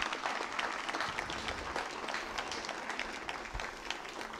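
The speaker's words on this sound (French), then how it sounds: "je veux remercier une bonne main d'applaudissements pour tous les bénévoles" Steady, full applause from a crowd at the 2023 Raid Témiscamingue opening ceremony, saluting the volunteers; dense clapping holds at an even level throughout without any talk.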